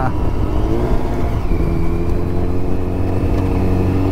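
A red Yamaha FZ1 motorcycle engine with issues in its tune runs loud and close, its steady drone sliding gently lower in pitch.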